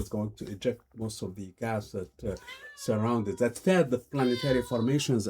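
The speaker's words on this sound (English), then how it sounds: "Sorry about the cat." A cat meows repeatedly in a room while a lecturer keeps talking about astronomy, the cries mixed in with and partly under the speech.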